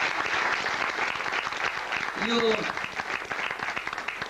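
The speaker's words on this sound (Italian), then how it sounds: "veramente merita il vostro applauso" A theatre audience at a live show in Rome applauds steadily, a dense wash of clapping that fills the room, while a voice speaks briefly over it near the middle.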